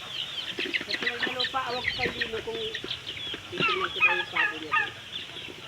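Turkeys gobble in rapid warbling bursts, several birds calling over one another at close range, with a low background of farmyard noise.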